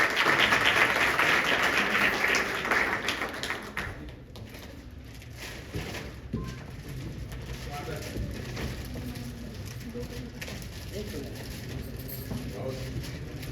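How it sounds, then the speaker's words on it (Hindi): An audience at a Hindi poetry gathering in Rajim, Chhattisgarh, claps loudly in a dense burst for about four seconds. The applause then thins into a hall murmur while a voice speaks over it. "पर जोरदार ताली बजाइए।"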